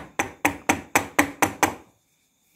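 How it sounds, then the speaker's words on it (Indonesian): A hammer handle tapping a bolt on a Miyako electric fan, seven sharp evenly spaced knocks in quick succession, then quiet. "kalau enggak kita ketok pakai gagang palu juga bisa"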